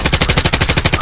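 A light machine gun fires in Call of Duty: Warzone as a loud, rapid burst of about a dozen evenly spaced shots in quick rhythm.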